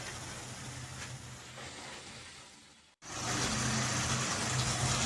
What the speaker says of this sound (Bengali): দিয়ে এবার আমি মশলাটা ভালোভাবে কষিয়ে নেব।